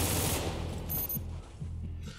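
Rapid gunfire bursts sound in a military shooter game, a quick rattling sequence of shots with short pauses, loud and close.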